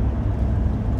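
A motor vehicle passes close by on the road, a steady, loud low engine and tyre rumble filling the whole second without a break.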